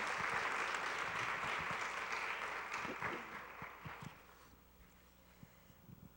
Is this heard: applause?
yes